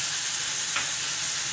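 Chicken frying in a pan with soy sauce just added, giving a steady, close hiss of sizzling with a faint stir partway through and no voices.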